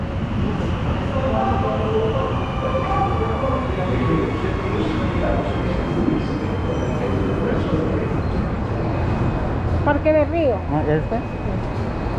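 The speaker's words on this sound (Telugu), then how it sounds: "మెట్రో ఎక్కేసాను" Riding a metro train in Medellín, Colombia: a steady, loud rumble and rattle of the carriage continues throughout, with faint squeals and a brief tonal chirp near the end.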